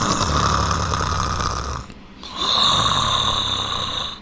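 A person imitates snoring with a voice, making two long, rasping, close-up snore-like breaths separated by a short pause, loud and alone without other talk.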